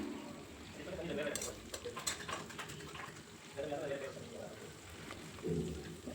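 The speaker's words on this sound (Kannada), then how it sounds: "ಸೊ ಚಿಲ್ಲಿ ಸ್ವಲ್ಪ ಫ್ರೈ ಆಗಿದ್ದಾದಮೇಲೆ ಎಣ್ಣೆಯಲ್ಲಿ ಆನಿಯನ್ನ ಸೇರಿಸ್ಕೊತಾ ಇದ್ದೀನಿ." Onion and chili frying in oil in a pan for tomato bath with capsicum: a soft, steady sizzle with occasional clinks and stirring scrapes, heard quietly beneath a person talking.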